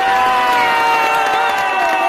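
A large audience at a patriotic speech cheering and clapping, a loud sustained roar with shouts and whoops layered over continuous applause, plus some tonal ringing.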